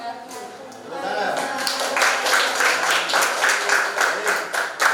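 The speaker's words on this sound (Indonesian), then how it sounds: "Tepuk tangan." Students in a university classroom clap for a finished presentation. Speech sits underneath at first, then the clapping builds into loud, rhythmic, fairly unified beats for the last few seconds.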